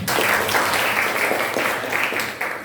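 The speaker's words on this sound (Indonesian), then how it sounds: "Oke, tepuk tangan." Students in a classroom clap in a sustained burst of applause, dense and steady for a few seconds with no voices over it.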